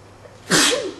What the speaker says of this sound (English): See, when you sneeze like that,